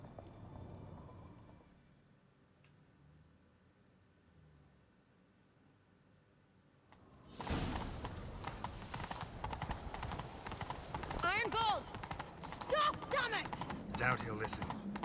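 A horse gallops in The Witcher 3 on PS5. After a quiet, low opening, loud rhythmic hoofbeats burst in halfway through and pound on steadily to the end.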